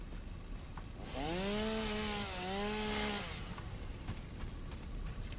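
Chainsaw cutting trees in the factory-building game Satisfactory, a single engine whine rising and revving for about two seconds, then briefly dipping and rising again before stopping, heard over quiet background ambience.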